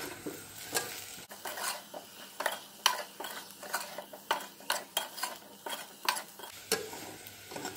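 Spiced potato curry being stirred in a pan, a rapid series of sharp spoon scrapes and clinks against the metal in a steady rhythm over a faint sizzle, close and clear, with no talking.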